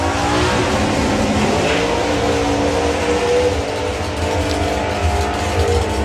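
A big Chevelle and a Corvette doorslammer drag car launch down the strip, a loud continuous roar of racing engines with tire squeal, heard from the grandstand side without commentary over it.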